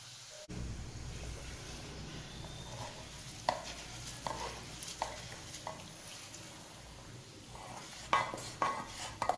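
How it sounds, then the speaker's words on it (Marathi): A spoon works through a chutney of gram flour paste with hot tempering poured over it, producing soft scraping and intermittent clinks against the bowl over a low background hiss. "आता हे चांगलं मिश्रण एकसारखं हलवून घ्यायचं आहे"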